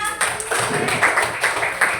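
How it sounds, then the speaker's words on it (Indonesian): Students in a classroom clapping for a classmate, a short burst of scattered, uneven hand claps lasting a couple of seconds, close and fairly loud, with voices mixed in. "Tepuk tangan dulu untuk temannya."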